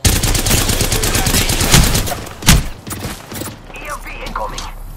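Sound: gunfire in the video game Apex Legends

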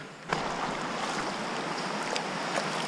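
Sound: creek water during a creek crossing

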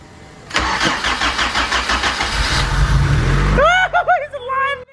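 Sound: turbocharged Honda CR-V engine starting and running

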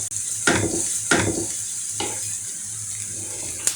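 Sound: chopped onion frying in a pan

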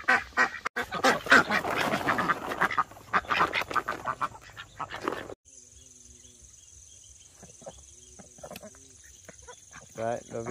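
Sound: ducks quacking as they are released in the garden

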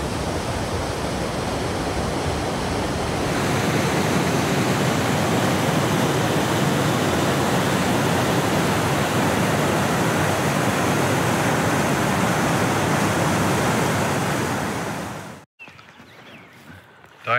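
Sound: rushing river swollen by snowmelt

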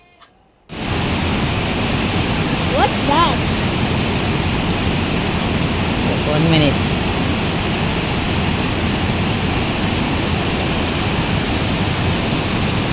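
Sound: Cumberland Falls waterfall, Kentucky

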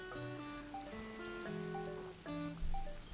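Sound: rain in the video game Animal Crossing: New Horizons

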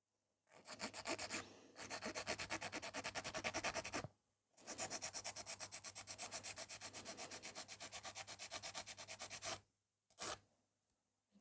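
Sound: filing gel sculpted nails

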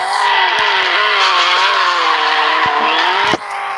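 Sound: car drifting with tire squeal in Extreme Car Driving Simulator video game

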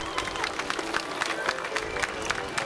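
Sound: spectators applauding cyclists at stage finish in Erfurt

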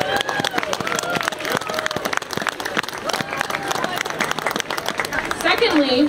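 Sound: outdoor crowd applause at holiday lights event

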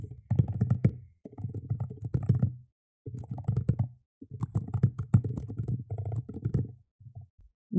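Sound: typing code on a computer keyboard

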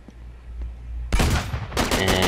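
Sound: shotgun firing in the video game Uncharted 3

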